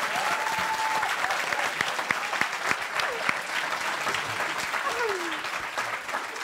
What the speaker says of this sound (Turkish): Kocaman alkışlarla arkadaşlar.